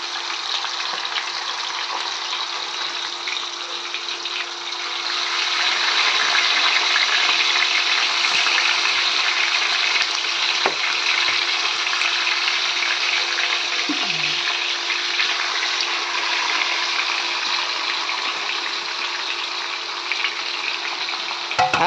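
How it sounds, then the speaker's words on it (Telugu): Fish curry mixture for Konaseema-style koinga fish curry frying in hot oil, a steady dense sizzle that grows louder after a few seconds and continues without talk, with occasional faint clinks. "ఇవన్నీ కలిపేసి వేసేయడమే. కలిపేసి ఆయిల్లో వేసేయడమే."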